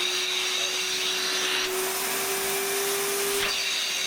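A V-TUF Sprayex HDV spray extraction vacuum runs up and down a mat, giving a loud, constant whine with a steady tone and a shift in the rushing air as the head moves back and forth.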